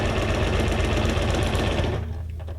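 A sewing machine runs a straight stitch through junk journal ephemera, a loud continuous mechanical whir that eases off slightly near the end.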